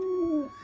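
A single pigeon gives one low, smooth coo that slides slightly downward, close and clear, lasting under half a second before fading into quiet.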